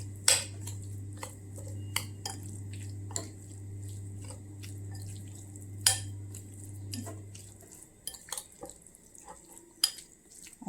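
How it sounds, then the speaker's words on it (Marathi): Chicken being stirred in a pan with garam masala, chili powder and black pepper, giving repeated close scraping and clinking of a utensil against the pan over a low steady hum that stops partway through. "आता हे व्यवस्थित मिक्स करून घ्यायचं।"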